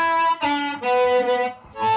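Harmonica played through an HB52 Heart Blaster mic into a Supro Delta 10 amp, a few gritty amplified held notes with brief breaks, close and fairly loud, no talking.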